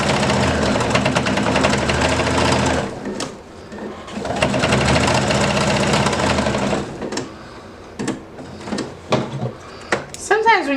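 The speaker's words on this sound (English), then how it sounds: "Sew it from the top since I do have a stitch line there and I know what I'm aiming" A sewing machine stitches through bulky layers of fabric in loud, close bursts of rapid mechanical whirring, stopping and restarting, with clicks and handling noises in the pauses between runs.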